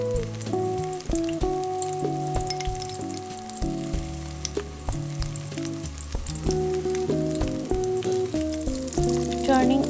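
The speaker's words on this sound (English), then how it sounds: "Now adding one by one the shrimp into the wok." Marinated shrimp deep frying over a high flame in oil in a wok, a continuous close crackle and sizzle with spattering pops, while background music plays throughout.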